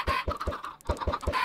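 Minecraft chickens clucking in a game pen, a run of short, evenly spaced clucks repeating quickly and loudly, close up with no talk over them.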